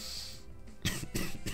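A man coughs three short, rough times in quick succession while commentating a Pokémon battle, close to the microphone and fairly quiet, with no talk in between.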